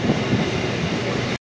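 A local train pulls out of Barrackpore station, a loud, steady rumble of wheels and carriages with a faint clattering rhythm that holds evenly, then cuts off abruptly.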